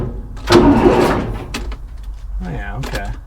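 An old bulldozer's diesel engine cranks and catches, with a loud burst of engine noise, while people talk excitedly over it and afterward.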